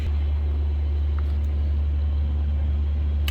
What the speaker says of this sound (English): what we have there is an 18-wheeler with the refrigeration cooler going